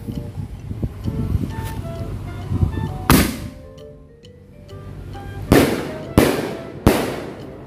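Firecrackers burst loudly: one sharp bang, a lull, then three quick explosions in a row, close by, with faint background noise between.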